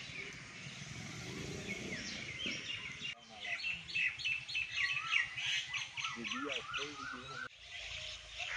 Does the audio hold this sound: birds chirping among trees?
yes